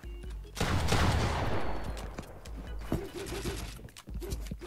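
Gunfire in the mobile version of Fortnite during a 1v1 build-and-edit fight: a rapid fusillade of game shots fired close and loud, running almost continuously with short gaps, no speech.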